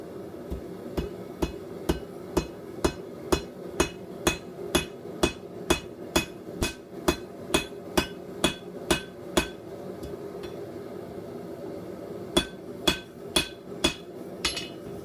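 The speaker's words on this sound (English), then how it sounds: "that's when you're ready to hit it on the anvil." Hot stacked quarters, with the nickel starting to melt, get hammered on an anvil in a steady run of sharp ringing blows, about two per second, followed by a short pause and then a few more strikes.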